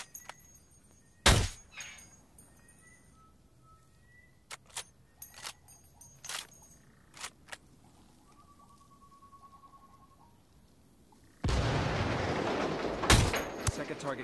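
Gunfire from shooting enemies in the video game Ghost Recon Wildlands: a few sharp, isolated shots spaced seconds apart among quieter clicks and thuds, followed by a rush of louder, continuous noise.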